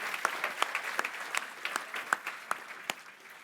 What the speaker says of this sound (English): let's give all of those Category 1 finalists a round of applause